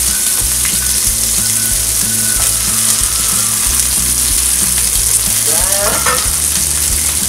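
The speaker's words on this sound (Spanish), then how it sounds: "me gusta sofreír todo lo que va a llevar" Sofrito with onion and pepper sautés in a pan, sizzling steadily and loudly up close, with a spoon stirring and scraping at intervals.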